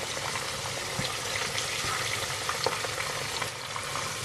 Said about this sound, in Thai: เดี๋ยวเอาไปทอดน้ำมันตั้งแล้วจ้ะนี่ น้ำมันตั้งแล้วนะ